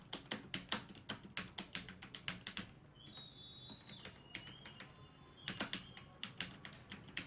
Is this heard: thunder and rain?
no